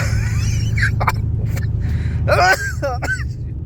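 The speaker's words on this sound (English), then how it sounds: "I got a bad dry cough that's been bugging me for like the past 2 days." A few short, dry coughs and throat-clearing noises up close from a man with a dry cough, over a steady low hum, with brief vocal sounds between them.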